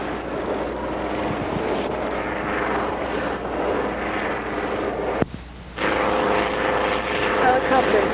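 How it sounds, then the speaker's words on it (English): A police helicopter buzzes low overhead above a road blockade entrance, a continuous rotor and engine drone with steady throb, briefly cut off near the end, mixed with speech. "Helicopter is buzzing again."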